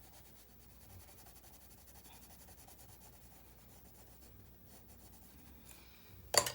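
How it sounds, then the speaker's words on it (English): A white colored pencil is rubbed over denim-colored pencil on paper, giving a quiet, continuous close scratching and rubbing, ending with a brief louder knock. "let's get some white and color on top of it"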